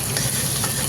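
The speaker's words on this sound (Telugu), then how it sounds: "ఇప్పుడు ఉల్లిపాయలు వేసుకుంటాను. ఉల్లిపాయలు కూడా ఫ్రై అవుతాం బాగా." Onions frying with curry leaves in a pan, a dense continuous sizzle and crackle filling the short moment, close and loud with no voices.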